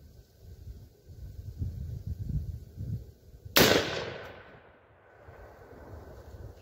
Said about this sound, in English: Now, I'm going to still shoot at the same point of aim.